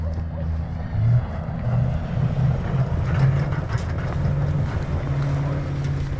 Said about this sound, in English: Oh, he's hitting the puddles, man.